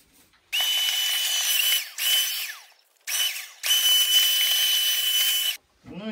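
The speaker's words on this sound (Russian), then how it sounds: "Я сейчас это попылесошу" A vacuum cleaner cleans out a Makita DLM431 lawn mower during its disassembly, running as a loud, close, hissing whine in four bursts that start and cut off abruptly, with short pauses between them.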